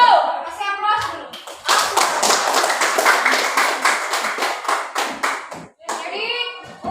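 Audience applause in a classroom or school session fills several seconds with dense, steady clapping, bracketed by children's voices talking and calling out before and after.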